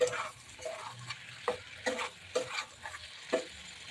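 A fried egg is stirred into a pan of sizzling cauliflower and potato, with a quiet steady frying hiss and repeated scraping clicks of a spatula in a regular rhythm.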